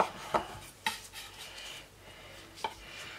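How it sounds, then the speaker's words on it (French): A knife slices through a cooked beef tongue on a board, giving a few quiet, sharp scraping cuts with soft rubbing between them, close and faint, with no talking. "nous allons trancher notre langue"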